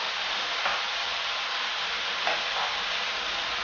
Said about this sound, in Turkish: Kavurmaya bir süre daha devam edelim.